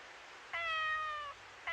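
An anime kitten gives a single clear, drawn-out meow, close and fairly soft against a quiet background, with the start of a second cry cut off at the end.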